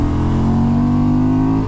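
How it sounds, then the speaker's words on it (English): A 2023 Honda Transalp motorcycle engine is revved hard, giving a loud, close, continuous droning roar that holds steady with a slight rise and no voices over it. "the engine has got a lovely noise to it, just makes it fun to wind on the throttle"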